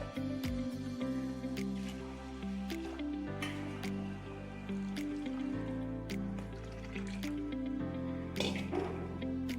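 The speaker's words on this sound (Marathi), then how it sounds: "आता मी पाणी टाकून ठेवते त्याच्यामध्ये" Water poured into a bowl of soaking rice, dal and fenugreek seeds for idli batter, with soft, faint trickles and drips at an irregular pace.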